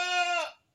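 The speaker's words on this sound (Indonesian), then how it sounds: "ini ada 3 ekor kambing saya lur ya" A single goat bleats close by, one of a small backyard herd of three, a female and two males. The call is a loud, sustained nasal cry of under a second that cuts off cleanly into quiet.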